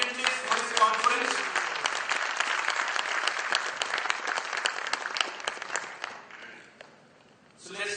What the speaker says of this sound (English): a big round of applause for all the attendees for this conference